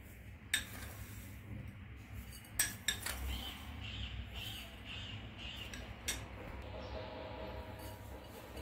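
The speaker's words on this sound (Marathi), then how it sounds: "आता हे सर्व व्यवस्थित मिक्स करून घ्यायचे आहे." Cheese ball mixture with mozzarella is stirred in a bowl, with soft scraping and occasional sharp clinks of a spoon against the dish, quiet and close.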